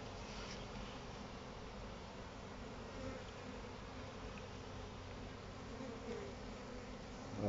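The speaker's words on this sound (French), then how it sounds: "je viens de récupérer un petit essaim" A small, freshly collected honeybee swarm hums inside an opened nucleus hive, a faint, steady, even buzz that continues without a break.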